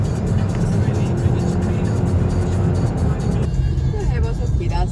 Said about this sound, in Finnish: Tässä liikennettä.